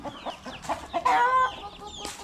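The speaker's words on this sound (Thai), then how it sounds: "ไก่บ้าน" Domestic chickens clucking on a rural Thai homestead, a run of short, close clucks with a louder burst midway, heard alone without speech.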